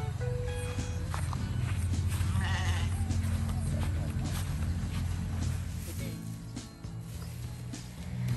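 Sheep bleat at a resort farm in Suan Phueng, Ratchaburi, where visitors offer them feed, with a few calls rising over shuffling footsteps, steady crowd noise and nearby people talking throughout.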